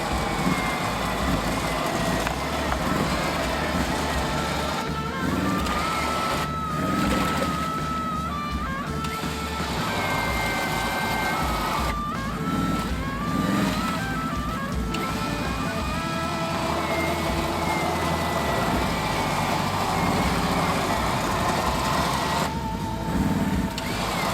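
An ATV engine runs at a steady throttle while its winch pulls, giving a continuous loud drone with whining tones that rise and shift throughout.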